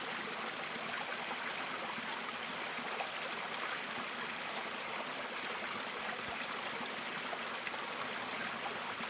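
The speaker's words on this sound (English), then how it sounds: "Maybe the water is really distracting for you and you're annoyed by it." A water stream flows steadily and evenly for the whole stretch, a soft continuous rush with no voices, in a natural setting.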